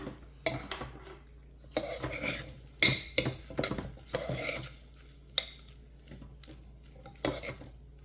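A heaping tablespoon of flour is stirred into green beans in a crock pot, giving scattered spoon scrapes and knocks against the pot with soft rubbing in between, close and fairly quiet.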